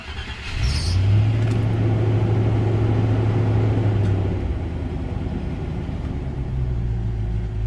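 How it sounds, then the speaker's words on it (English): The ABS pump on a 1990s Range Rover Classic runs with a steady, low electric hum for about three seconds, then fades to a quieter drone that continues to the end. "ABS pumps on."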